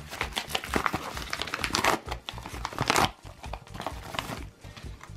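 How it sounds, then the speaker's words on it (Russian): Bubble-wrap packaging bag holding a Vention audio cable being crinkled and handled up close, with dense, loud crackling rustles and brief pauses, no talking. "И этот у нас еще пакет в пупырке."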